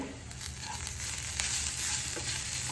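Two onions, browned to a golden color, fry in a pan for paneer butter masala. A steady close sizzle runs throughout, broken by a few soft stirring scrapes, with no speech.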